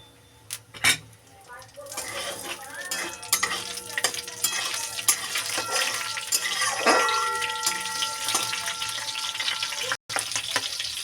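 Green chillies fry and hiss in a pan as they are stirred, a steady sizzle with scraping and clinks of the spoon running for several seconds, close and fairly loud.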